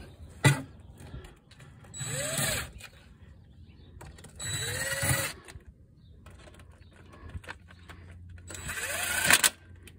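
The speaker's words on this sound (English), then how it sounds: "we go ahead and use the impact just to tighten them up even more" An impact wrench tightens oil pan bolts in three short bursts, each a loud rattling whir that rises in pitch, separated by quieter pauses with faint shop background.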